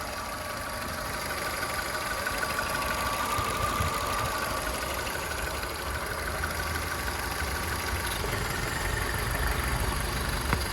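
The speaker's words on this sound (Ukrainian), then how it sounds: "Двигун працює рівненько, без зайвих шумів." A used car engine idles smoothly with a steady, even hum and no irregular noises, close and continuous throughout.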